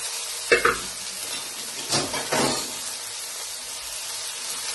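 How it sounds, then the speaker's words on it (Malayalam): Basmati rice being stirred and fried in a pan for Kerala-style beef biryani: a steady close sizzle with a few louder scraping strokes of the spoon, no talking. "ഇളക്കി ഒന്നും ഒരുവിധമൊന്ന് വറവായി വരുന്നത് വരെ നമുക്കിതൊന്ന് ഇളക്കി കൊടുക്കാം."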